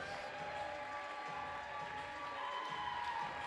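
Steady applause and crowd noise fill a packed gym at a GCMS Falcons versus Tri Valley high school basketball game during the spotlight starting lineup introductions, a continuous dense roar with no clear breaks.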